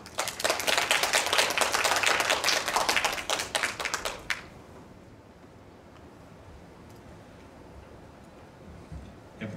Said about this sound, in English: Please welcome Mr. Ili to the stage with a warm round of applause.